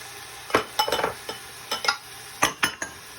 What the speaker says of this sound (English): So I'm gonna go ahead and throw in some onions.